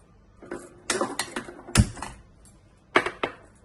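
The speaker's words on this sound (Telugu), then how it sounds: "స్టవ్ ఆన్ చేసుకొని" A gas stove switched on, heard as a cluster of sharp mechanical clicks and knocks close by, then a short pause and two more clicks near the end.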